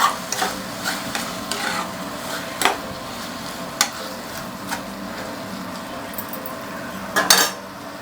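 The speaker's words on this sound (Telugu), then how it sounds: "ఒక్కసారి తిప్పుకుందాం." Tomato egg curry is stirred in a pan, a spoon scraping and clinking against the metal in irregular strokes over a soft, continuous frying sizzle, heard up close.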